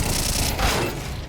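Gunfire in the video game Counter-Strike 2: a dense, loud burst of rapid shots rolling together for over a second, close and unbroken, with no voices over it.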